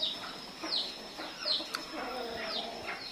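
Guinea fowl on a farm giving repeated sharp, high clucking calls, several birds calling in turn at close range over a quiet background.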